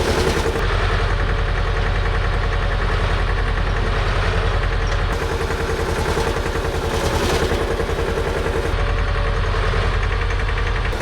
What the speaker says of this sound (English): Let's try moving the boom up and seeing if the telescopic works.